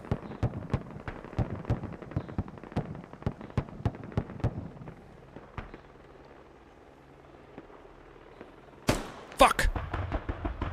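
AK-12 rifle gunfire in the video game Squad, with rapid, sharp bursts of shots packed through the first half. A quieter lull follows, then a loud close volley near the end, with one short shouted exclamation.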